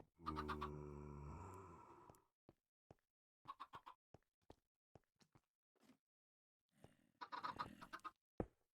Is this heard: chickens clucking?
yes